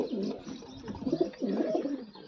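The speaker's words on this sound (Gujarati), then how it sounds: "આ અબલક કબૂતરી છે જોઈ લો તમે" A pied female pigeon coos softly nearby in low rolling phrases over steady background noise.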